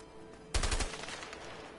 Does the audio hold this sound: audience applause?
no